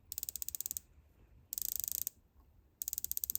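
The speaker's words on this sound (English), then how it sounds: "Feels like a Seiko bezel, but with more pronounced clicks." The bezel of a Ginault Silent Service dive watch turns in three short bursts, each a quick run of crisp, evenly spaced ratcheting clicks, heard close and quiet with brief pauses between.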